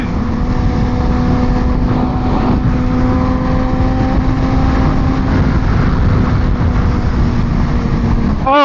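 A BMW S1K motorcycle being ridden, its engine a loud, continuous drone blended with heavy wind rush that holds steady for several seconds, with no talking.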